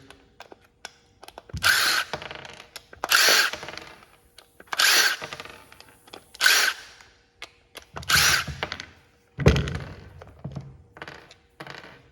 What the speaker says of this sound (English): You notice it's got some Phillips screws versus like the Torx bit on the OEM, but the same procedure here. So we remove the screws.